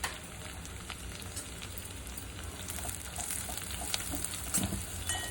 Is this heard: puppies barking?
no